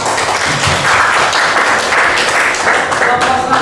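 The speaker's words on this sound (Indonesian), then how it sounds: "Tepuk tangan untuk Pak." A classroom group applauds a presenter after a mathematics teaching-practice presentation, a steady, fairly loud patter of clapping with some voices mixed in throughout.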